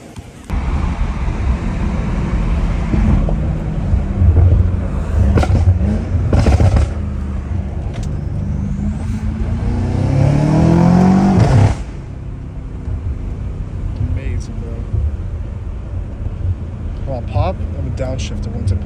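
A BMW M5 Competition F90 fitted with new intakes revs up: a loud engine drone climbs to a rising roar and then drops away abruptly. Road noise from the car runs throughout, and people talk over it.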